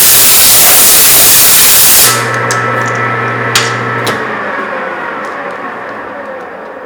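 A loud, close blast of compressed air hisses across a threaded part after sanding for about two seconds, then cuts off, leaving a quieter background with a couple of sharp taps.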